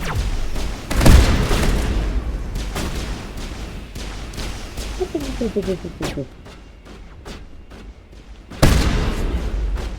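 Explosions and weapon fire in the Mass Effect video game, repeated heavy booms and bursts of gunfire with rumbling tails, a brief lull, then another loud blast, with voices talking in the mix.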